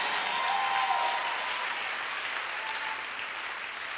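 A church congregation applauding and acclaiming the Lord during a sermon, a dense continuous wash of clapping that swells early and then holds steady at moderate volume.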